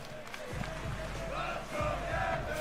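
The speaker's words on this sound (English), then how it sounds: "The crowd chanting for him." A crowd at the Combo Breaker 2025 fighting game tournament chants and roars for a player, a dense, echoing mass of voices with rhythmic swells, heard fairly faint in the background.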